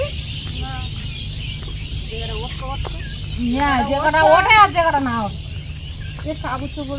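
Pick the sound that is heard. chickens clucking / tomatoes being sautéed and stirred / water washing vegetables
chickens clucking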